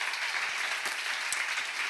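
A church congregation breaks into steady, full applause during a sermon at a Korean seminar, a continuous crowd clapping with no talk over it.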